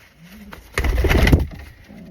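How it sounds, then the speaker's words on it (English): A blue fantail pigeon cock gives a short burst of throaty cooing at close range, loud for under a second amid quiet surroundings. "the cockbird she's paired up with is the blue fantail cockbird"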